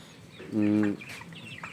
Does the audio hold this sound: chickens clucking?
yes